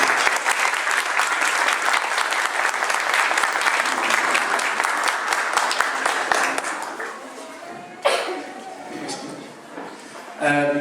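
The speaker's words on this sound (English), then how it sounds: "Please clap your hand for Terry Singh." Loud, dense applause from a crowd at a community centre opening ceremony in Leicester rolls on for about seven seconds, then thins out into scattered claps and room noise, with voices starting up near the end.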